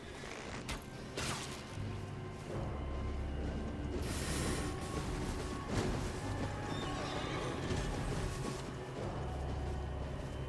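A horse carrying a rider in Elden Ring neighs, with hoof clops, creaking and mechanical clatter during a fight. The sounds are fairly close, with bursts and thumps over a steady low rumble.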